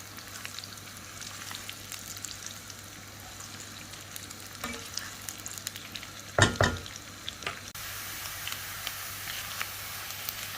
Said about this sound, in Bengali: একটু ভালো করে তেলের মধ্যে এগুলোকে ভেজে নিব, একটু সুন্দর ঘ্রাণ বের হওয়া পর্যন্ত, হালকা গোল্ডেন ব্রাউন হওয়া পর্যন্ত এগুলোকে আমি ভেজে নিব।